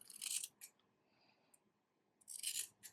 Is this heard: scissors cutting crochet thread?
yes